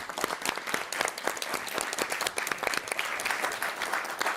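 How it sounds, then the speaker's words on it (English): An audience at a live event with chef Victor Aguilera claps in a dense, sustained round of applause, many hands close and loud with sharp individual claps standing out. "just round of applause for y'all, please,"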